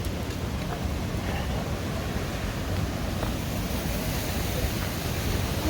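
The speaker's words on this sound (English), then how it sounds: "Now we're coming up to Nevada Falls right now." Nevada Falls on the John Muir Trail roars as a steady, broadband wash of falling water, constant and full without any pauses.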